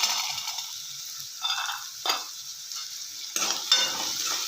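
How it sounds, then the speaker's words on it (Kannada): Raw peanuts and chopped onions fry in a pan for vermicelli upma, giving a steady soft sizzle with occasional scraping stirs of a spoon against the pan. "2 ರಿಂದ 3 ನಿಮಿಷ ಈರುಳ್ಳಿ ಮೆತ್ತಗಾಗೋವರೆಗೆ ಹುರ್ಕೊಳ್ಳೋಣ"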